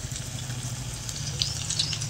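Carrot chips sizzle in hot oil, a steady, close bubbling hiss with a low hum beneath and a few faint crackling pops.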